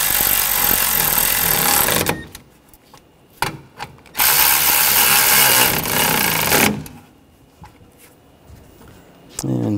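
Power driver running screws into the A/C condenser of a 2016-2022 Honda HR-V, heard as several loud, close bursts of whirring and ratcheting separated by short pauses.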